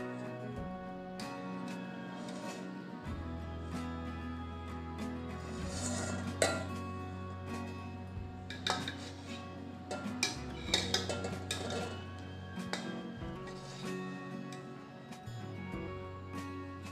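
Cream lifted with a spoon from a pot of milk into another vessel, faint metallic clinks and scrapes of utensil on steel, scattered and irregular over a low steady hum.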